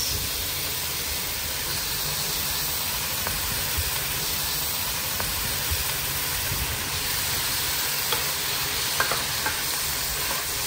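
Pinakbet sizzles loudly and steadily in a pan as tomatoes go in, a dense unbroken frying hiss with faint stirring clicks near the end.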